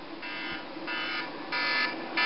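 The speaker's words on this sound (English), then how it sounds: "It's the villain alarm." A harsh electronic alarm buzzes in repeated on-off bursts, loud and insistent, with a steady hum beneath and no talking.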